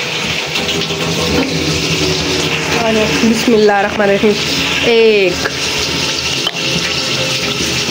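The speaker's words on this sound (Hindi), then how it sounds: "अब इसमें पानी सानी ऐड कर दें।" Water poured into a cooking pot of browned ingredients in a home kitchen, a continuous splashing gush with bubbling, while someone speaks over it.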